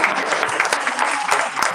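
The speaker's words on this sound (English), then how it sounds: "Round of applause for last members" Brief, loud applause from an audience at a live book fair in San Francisco, with crisp close claps standing out over a dense bed of clapping and a little crowd murmur.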